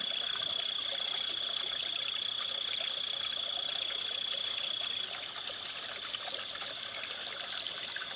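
Steady flow of Chinquapin Run, a polluted, partly concrete-channelized urban stream in Baltimore, a continuous broadband wash with a faint high whine over it, no voices.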